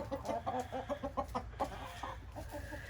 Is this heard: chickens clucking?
yes